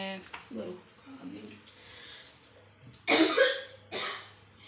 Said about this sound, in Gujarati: સૂકી ઉધરસનો પ્રશ્ન થઈ ગયો મટતી જ નથી